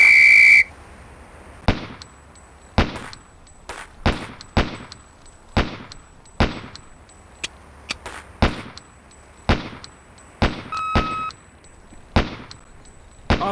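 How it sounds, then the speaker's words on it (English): Gunshots in a Police Quest: SWAT video game target drill. A short tone opens, then about a dozen sharp, loud single shots ring out one at a time at uneven intervals, each decaying quickly, with no talk. "shoot the first target once, second target once, third target twice"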